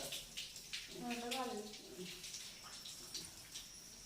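Water poured and splashing while a grandmother is bathed seated in a chair at home, irregular gushes and drips under a voice talking throughout.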